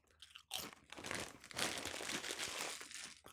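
Late Night Taco flavoured Doritos are chewed close to the mic, producing dense, continuous crunching and crinkling with loud bursts, starting after a brief quiet moment.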